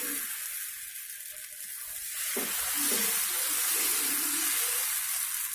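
Karamani (black-eyed pea) dosa batter is poured onto a hot pan, setting off a loud, close, steady sizzle that swells halfway through and keeps hissing without any talk.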